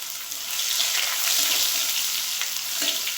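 Crushed ginger and cumin seeds fry in hot oil for a chickpea and pumpkin-greens curry. A loud, continuous close-up sizzle swells slightly midway and runs unbroken, with no talking.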